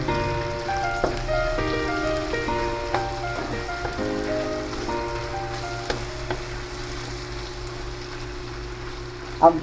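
Pork tosino sautés with onion in a pan, a steady close sizzle and crackle running throughout, with a tonal hum in the background and a sharp clatter near the end; no talking.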